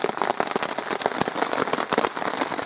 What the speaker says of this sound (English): Pissing down with rain.